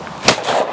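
A single sharp shotgun blast rings out at a clay target on a shooting ground, close and loud, with a short rumbling tail.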